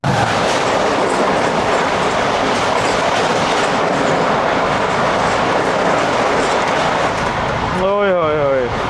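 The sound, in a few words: Shalimar Express train passing by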